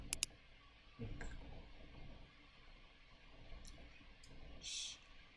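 Sharp mouse clicks made while selecting in Photoshop, a quick double click at the start and a few isolated clicks later, faint and close in a quiet room.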